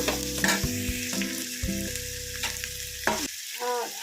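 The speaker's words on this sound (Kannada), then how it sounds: "ಎರಡು ಈರುಳ್ಳಿ ತಗೊಂಡಿದ್ದೀನಿ ಅದನ್ನು ಹಾಕ್ತಾ ಇದ್ದೀನಿ ಈರುಳ್ಳಿ ಸ್ವಲ್ಪ ಕೆಂಪಾಗಬೇಕು" Onions sizzle and crackle in hot oil with occasional stirring scrapes, while soft background music plays and no one speaks.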